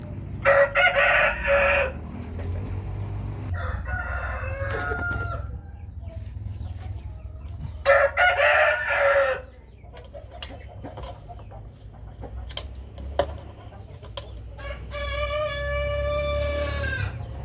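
A seven-month-old Rhode Island Red rooster crows loudly several times, with bursts of clucking between the calls and a low rumble of background noise throughout.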